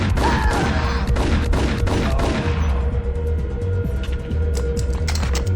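Gunfire in the Max Payne video game from 2001: dense, loud, close bursts of shots in quick succession, thinning into scattered single cracks, with no talk.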